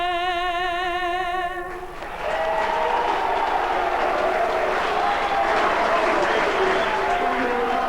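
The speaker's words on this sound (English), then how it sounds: "big crowd here at Elizabeth. They're all fired up for this afternoon's match" Singing of the Australian national anthem ends, and a large crowd at an Australian rules football match at Elizabeth breaks into sustained, roaring applause and cheering.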